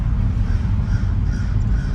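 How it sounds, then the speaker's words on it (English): Crows caw outdoors beside a street, several harsh calls in a row at a moderate distance over a low, rumbling background. "I hear the crows"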